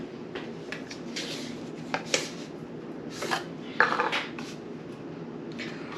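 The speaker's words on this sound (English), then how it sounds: "I gotta open up a new jar of peanut butter." Fresh jar of peanut butter being opened in a home kitchen for peanut butter cookies: close clattering of the lid and jar, scattered knocks and scrapes with a couple of louder clicks, over a steady room hum, no talking.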